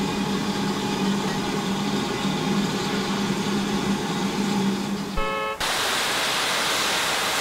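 Steam locomotive in a train simulator game blowing off steam: a sustained loud hiss with low humming tones, then after a brief tonal blip it cuts to a brighter, airier rush of escaping steam.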